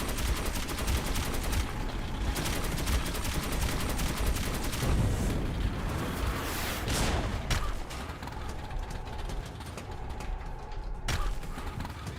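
Sustained panzer gunfire in Metro 2033 Redux, a dense rattling barrage of rapid shots that rolls on continuously with heavy low rumble and occasional louder thumps.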